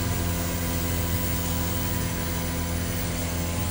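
A flooded air conditioner compressor struggling with weak suction runs with a steady, dense, close mechanical drone and low hum that stays constant with no pauses.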